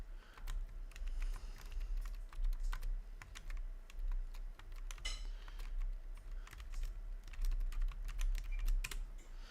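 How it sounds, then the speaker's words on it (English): Fast, continuous typing on a computer keyboard, with dense clicking keystrokes close by and steady throughout over a low background hum. "My opponent is typing so fast, I have no clue what they're doing."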